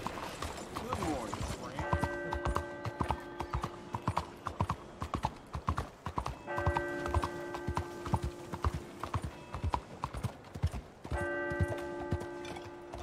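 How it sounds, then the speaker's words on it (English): Horse hooves in a video game clip-clop in a steady rhythm throughout, with bursts of jingling, tonal game sounds layered over them at intervals; no talking is heard. "That's a pretty horse."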